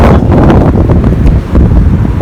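Strong wind buffets the microphone in a continuous low roar, loud and close, with no voices.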